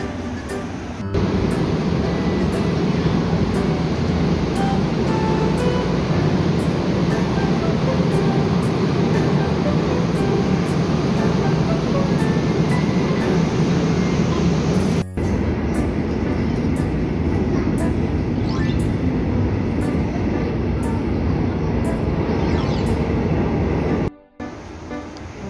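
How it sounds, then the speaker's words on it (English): Steady rumbling subway train noise with a constant low roar and rattling, continuous throughout, briefly cutting out twice. "let's take a subway to go to the Gihun station"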